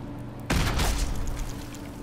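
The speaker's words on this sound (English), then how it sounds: "Let's just toss a grenade at him." Grenade explosion in the video game Fallout 4, a sudden loud boom that bursts out half a second in and trails off into a rumbling, crackling decay.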